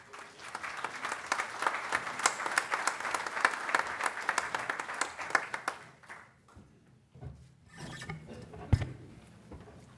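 Audience applause at an international seminar on democracy and elections in Latin America, a steady dense clapping for about six seconds that fades out, followed by quieter room noise and a few scattered sounds.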